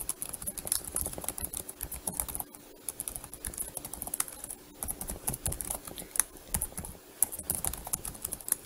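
Someone types a username and password on a computer keyboard, quick irregular key clicks in short bursts with brief pauses, close and fairly quiet.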